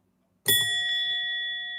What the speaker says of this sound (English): And it is a bellhop bell. And it has the most fantastic sound to it.